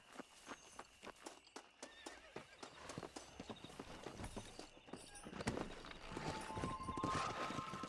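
A horse's hooves clip-clop steadily under a rider in a Western open-world game, the even rhythm picking up pace and growing louder with faint ambient noise, while a horse whinnies at one point.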